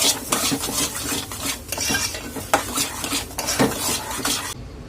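Mango pulp being stirred into shira in a pan, with a spoon scraping and clacking against the metal in a busy, continuous rhythm that stays close and fairly loud throughout.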